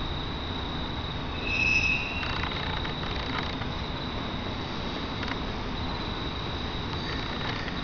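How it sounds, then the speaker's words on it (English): A distant freight train rolls by at night with a steady broadband rumble and a faint metallic wheel squeal, while insects chirp in the background. "Freight train."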